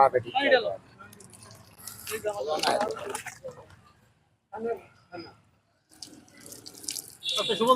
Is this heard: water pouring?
yes